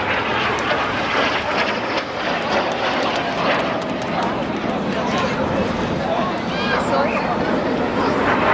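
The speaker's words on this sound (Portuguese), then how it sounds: "Virou uma baderna, tem avião pra todo lado agora." Airplanes fly over the Toulon air show in a loud, continuous engine roar that fills the whole stretch, while people talk over it.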